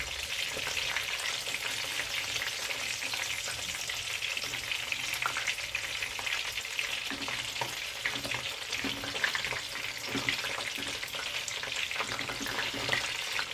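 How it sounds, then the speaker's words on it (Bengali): Chicken satay skewers fry over low heat in a pan, a constant crackling sizzle running for over ten seconds, broken by occasional soft knocks as the sticks are turned. "এইভাবে 4-5টা ঘুরিয়ে ঘুরিয়ে ভালো করে ভেজে নিতে হবে।"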